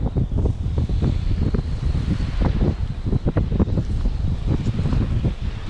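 Strong wind on a beach while surfcasting buffets the microphone in a constant low roar, with gusty rumbling throughout and a faint hiss above.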